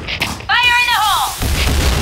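A grenade explosion in a video game shooter: a loud, low, rumbling blast that follows a brief shouted, tonal voice call and keeps booming to the end.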